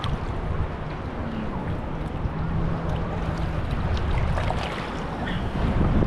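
Tall ocean waves surge and wash continuously at a beach in San Juan, Puerto Rico, a dense steady roar mixed with wind buffeting the microphone, close and loud, with no voices.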